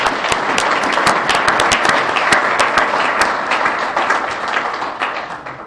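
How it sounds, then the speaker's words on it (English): A crowd applauds steadily for several seconds at a tropical weather conference, dense clapping that fades slightly toward the end. "Let's give them a round of applause."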